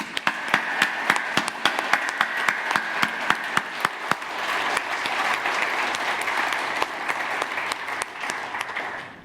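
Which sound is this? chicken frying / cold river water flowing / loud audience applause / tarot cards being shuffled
loud audience applause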